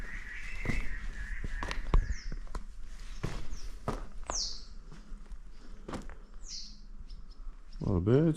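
Birds give short, scattered chirps and tweets near a bush cave entrance, with footsteps, faint rustling and a breathy voice close by in a quiet outdoor setting.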